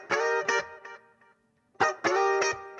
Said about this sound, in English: On top of that, we've got these little funk guitar